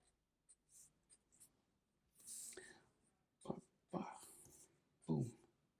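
A pencil scratches across paper in short bursts while sketching a Demon Slayer character, with a few quick strokes and then louder, longer scribbles near the end, close and crisp with no talking.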